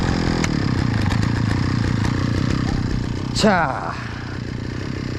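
A brush cutter engine runs at low RPM nearby with a steady rough drone and a brief rising whine near the end. Someone talks briefly over it.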